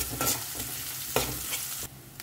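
Chopped onions fry in a pan until light brown, a close steady sizzle broken by a few stirring scrapes and bursts, with no voices.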